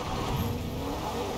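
A car engine in the video game Fortnite drones and revs steadily, a dense, continuous motor roar for a brief moment with no speech over it.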